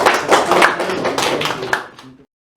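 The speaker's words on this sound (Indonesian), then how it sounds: "tepuk tangan sekali untuk kelompok 1" A classroom group claps once together for the first presentation group, giving a short burst of brisk, close hand claps that fades out within about two seconds, with some voices mixed in.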